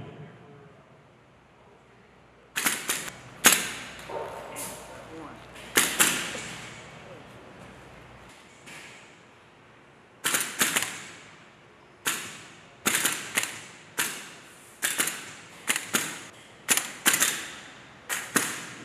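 Military squad weapons fire on an Army range in sharp, distant single shots and short bursts, irregularly spaced with brief silences between them and a faint voice early on.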